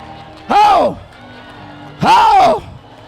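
A church congregation cheers and applauds for Jesus in two loud, close swells of shouting and clapping, each lasting about half a second, separated by a quieter pause.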